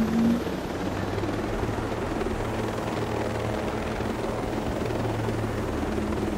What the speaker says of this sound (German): Leider hat dieser Heli keine Kanonen.